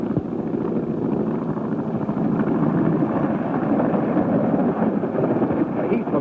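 A propeller airplane drones steadily overhead, a dense rumbling roar with wind-like noise that holds loud and even throughout.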